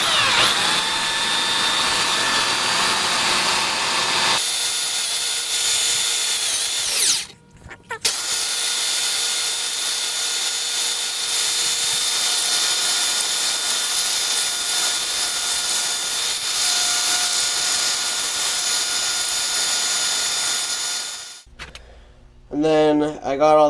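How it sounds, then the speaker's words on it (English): A loud power sander whines steadily against a glued wooden fingerboard blank, smoothing rough glue and unevenness, for most of the stretch, stopping briefly partway through, then cutting out near the end. "just sanding away at the rough glue and unevenness of the board"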